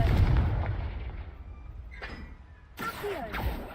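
A Confringo fire spell from Hogwarts Legacy detonates with a heavy, close boom at the start that fades, then a second burst hits late, amid game ambience with little speech.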